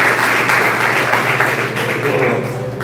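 A church congregation applauds together, a loud, dense wash of clapping that holds steady for about three seconds with a steady hum underneath.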